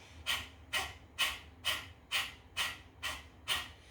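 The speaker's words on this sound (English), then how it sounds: "the breath of fire is done by pumping the belly in and out while panting through the nose" Rapid breath-of-fire panting through the nose, eight sharp rhythmic exhales driven by the belly pumping in and out, close and moderately loud with no talking.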